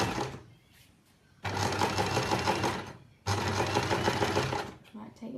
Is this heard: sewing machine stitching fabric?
yes